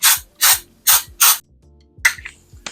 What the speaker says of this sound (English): go ahead and spray this pan with some baking spray